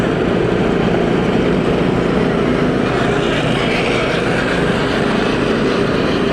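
Small Shriners mini cars drive past in a small-town memorial parade, a steady close engine buzz running loud and unbroken throughout.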